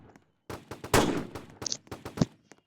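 A sniper rifle fires in a video game: one sharp, booming crack followed by a few shorter impacts and clicks, fairly faint with quiet gaps between them.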